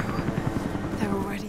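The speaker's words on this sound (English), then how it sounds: "That helicopter, where is it?" A helicopter in the video game Rise of the Tomb Raider gives off a loud, steady rotor drone with rhythmic chopping, heard under a man's speech.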